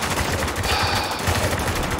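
Heavy automatic gunfire in the shooter game Spec Ops: The Line, a dense, continuous rattle of rapid shots, loud and close throughout with no pauses.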